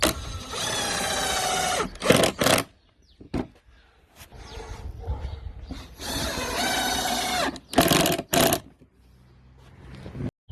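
A power drill drives screws into a simple wooden garden tool holder through pre-drilled holes, in two long whirring bursts separated by short clicks, handling knocks and quiet gaps, loud and close.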